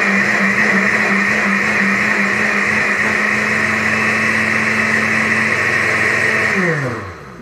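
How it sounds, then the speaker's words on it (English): Electric blender grinds prickly cactus into a purée with a loud, steady whir that runs for about seven seconds, then winds down as it shuts off. "you want to grind a little bit more, because I want this as, I want it like pureed a lot. So I'm going to go ahead and grind."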